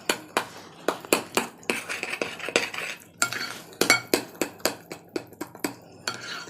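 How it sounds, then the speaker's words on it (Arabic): Utensil stirring eggs with salt and vanilla in a bowl, making a steady run of sharp clinks against the bowl, close and distinct, with a short pause midway. "نقلبهم"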